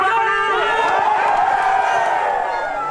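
A large outdoor crowd in Bougainville cheers, whoops and chatters over news of independence, a steady, loud, continuous roar of many voices with shouts rising through it.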